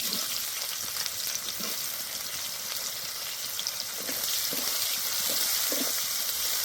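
Chopped onion frying in hot oil with whole dried chillies, bay leaf and cumin seeds for a katla fish curry, a dense, even sizzle close up with soft occasional stirring knocks.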